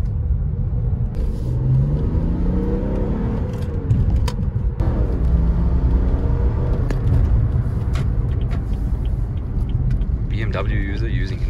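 Tuned stage 2 BMW F30 330d diesel sedan doing a launch-control start, a loud continuous engine roar with rising tones under the cabin rumble, voices talking over it and a brief whistle near the end.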